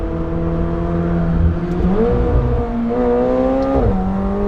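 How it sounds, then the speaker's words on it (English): A McLaren 720S Spider sports car accelerates hard from inside the cabin, its engine droning loud and close with rising pitch sweeps as it climbs through the gears. "Surely this car is just too fast for the road."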